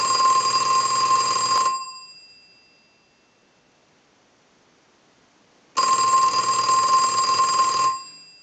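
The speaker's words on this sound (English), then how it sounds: "So we're going to go ahead and ring the unit" Bells of an Onyx Baroque Countess telephone from Korea ringing on a repair bench, driven by an analyzer: two loud, steady electromechanical rings of about two seconds each, separated by a long silent pause.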